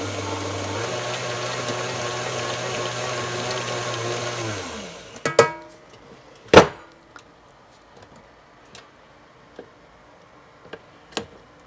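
An electric mixer beats a thick no-bake mixture with a steady low whir for several seconds, then stops, followed by a few sharp clacks and taps as the beater is handled and removed.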